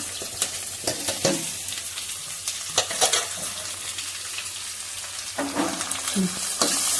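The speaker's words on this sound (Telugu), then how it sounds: "అవి బాగా వేగిన తర్వాత ఇప్పుడు ఉల్లిపాయ వేయడం" Chopped onion frying in a pan with a steady sizzle, broken by intermittent scraping and stirring knocks from a spoon, close and moderately loud, with no speech.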